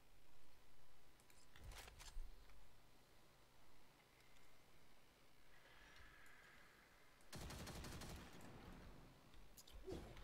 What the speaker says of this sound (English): this is a machine gun?